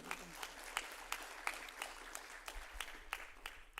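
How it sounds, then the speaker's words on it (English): An audience at a sports journalism symposium gives a round of applause, scattered distinct claps over a steady bed of clapping, moderately loud and unaccompanied by talk. "So Red Barber deserves another round of applause for today."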